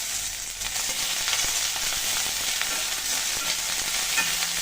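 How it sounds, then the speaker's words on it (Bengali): Garlic frying in a pan with ginger paste and cumin paste just added for a Bengali dal; a loud, continuous bright sizzle with a few scraping stirs and no talk. "সব কিছু সুন্দর করে ভেজে নিলাম"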